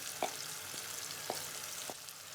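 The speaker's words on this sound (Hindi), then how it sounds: "तो चम्मच चलाते हुए स्टिर करते हुए 2 से 3 मिनट तक हाई टू मीडियम फ्लेम पर भूनना है।" Mutton frying in spice paste for a smoky dahi gosht, stirred with a spoon over high to medium flame: a soft sizzle under a few distinct scraping clicks of the spoon against the pot.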